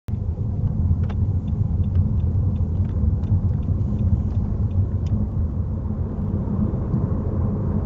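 A car in fourth gear at around 50 km/h approaching a roundabout. A steady, close interior engine and road rumble runs throughout, with faint intermittent ticking on top.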